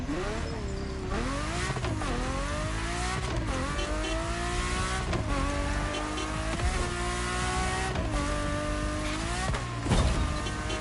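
Racing car engine in The Crew Motorfest driving and accelerating, a steady loud engine drone with rising and falling revs through gear shifts, alone without talk.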